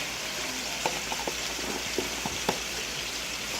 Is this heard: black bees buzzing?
no